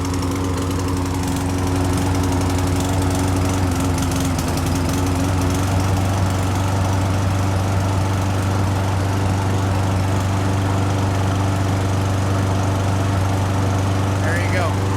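A lawn mower with a troubled carburetor runs smoothly at a steady, loud drone, its engine note holding even and unbroken throughout with no pauses or surges.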